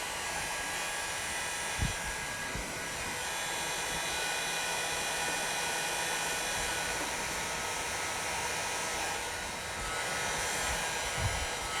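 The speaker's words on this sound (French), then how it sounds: "Je chauffe très légèrement sur les pointes pour récupérer la mémoire du vinyle et j'applique le bord vers les espaces plats." Heat gun blowing steady airflow while lightly warming the edges of vinyl wrap film on a car body; a continuous hiss-like roar runs the whole time at moderate level, with a couple of faint handling knocks.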